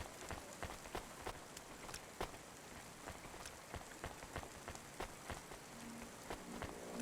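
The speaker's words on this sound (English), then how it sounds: "Raining inside the diner." Rain falling inside a diner in the game Cloudpunk, a steady soft patter of drops with scattered sharper ticks, continuous and fairly quiet with no talking.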